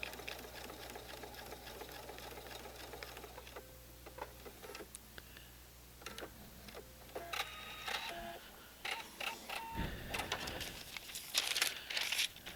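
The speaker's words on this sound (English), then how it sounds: "go to the sewing machine, and stitch right in the same exact place we just stitched" A sewing machine stitches a twisted quilt block, its needle running in a rapid mechanical rattle that starts and stops in short runs, with fabric rustling and clicks between stretches.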